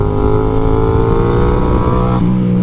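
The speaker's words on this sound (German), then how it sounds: "Es ist unfassbar, wie dieses Motorrad klingt." A loud, close motorcycle engine drones and revs upward, then drops in pitch briefly near the end, with no talk.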